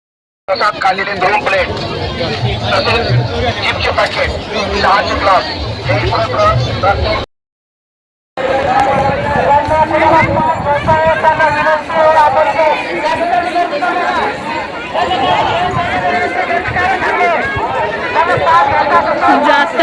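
Dense crowd of pilgrims walking in an Ashadhi Ekadashi wari procession, a loud continuous babble of many voices with shuffling movement, broken by a brief silent gap midway.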